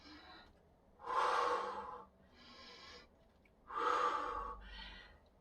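A person breathes in through the nose and out through pursed lips at high altitude: two loud, drawn-out breaths about a second each, alternating with quieter nasal inhales, close and without talk.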